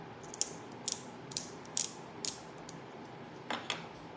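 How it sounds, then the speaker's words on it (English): Handheld cosmetic pencil sharpener being twisted, a series of crisp close ratcheting clicks and scrapes in irregular bursts, about eight strokes over a few seconds, with no talk. "I have a handy dandy sharpener right here."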